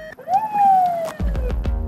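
A police car siren wails loudly at a wide intersection, rising then sliding down, followed by a few sharp bursts and rumbling traffic noise.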